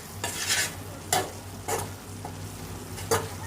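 Okra pieces cook in a pan over a low flame with a constant gentle sizzle, while four or five scraping stirs of a spoon against the pan come at roughly half-second to one-second intervals, with no one speaking.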